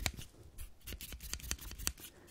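Close, crisp scissors snips in a quick irregular series of sharp cuts, heard alone in a quiet room as part of a gentle ear-inspection roleplay.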